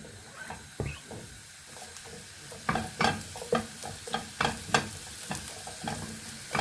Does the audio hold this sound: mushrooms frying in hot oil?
yes